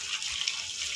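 Water gushing under strong pressure from a tap on a rooftop garden terrace, a steady close hiss and splash running without pause.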